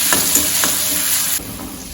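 Crushed garlic and green chillies dropped into hot oil for jeera rice, giving a steady close sizzle with a couple of small stirring knocks, then the frying settles slightly quieter.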